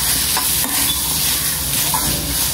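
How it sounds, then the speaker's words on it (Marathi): Tomatoes frying with ginger and garlic in a pan, a steady close sizzle with stirring scrapes running throughout, alone without voices. "आता थोडा टोमॅटो, थोडासा, जास्त नाही, ह्याला पण आता टोमॅटो आपला नरम होईपर्यंत"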